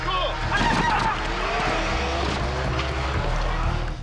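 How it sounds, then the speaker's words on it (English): A car speeds away from a police arrest scene, its engine surging with tyre noise amid a busy, loud commotion that holds steady for several seconds, with voices mixed in. "The car then pulls away again at speed."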